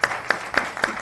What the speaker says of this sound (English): This one we clap.